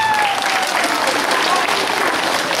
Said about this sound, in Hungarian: Nagy tapsot nekik!